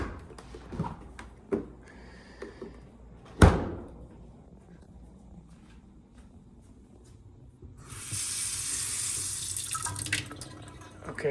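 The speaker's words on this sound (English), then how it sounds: "Okay, that's decent water pressure." A kitchen faucet in a timeshare unit runs after a few knocks and a sharp bang, with the water rushing steadily near the end and no speech over it.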